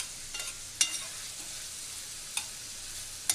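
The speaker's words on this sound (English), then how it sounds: "Now that we got this already sauteing on the pan, we're gonna proceed and bring on the onions." Food sautéing in a pan for a Cantonese dish, a soft steady sizzle with three sharp stirring clinks or scrapes spaced out over a few seconds, no talking.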